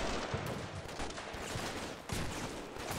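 Distant gunfire rattles in the modern combat game Combat Mission Shock Force 2, a dense continuous crackle of rifle and machine-gun fire with a brief dip before resuming, fairly faint and without talk.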